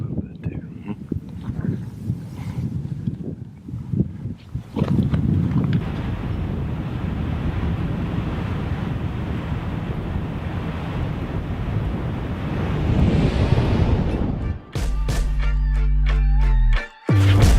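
Strong desert wind blows steadily across the microphone with gusty rumbling, briefly dropping away near the end where a few sharp knocks break through.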